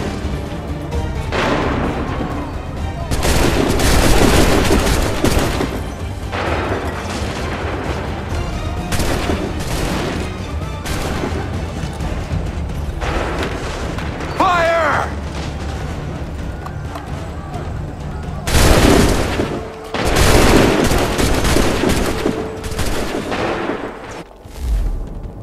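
Sustained battle gunfire crackles and booms throughout in the video game Assassin's Creed 3, with dense volleys and louder bursts mid-way and near the end, and a brief voice cutting through.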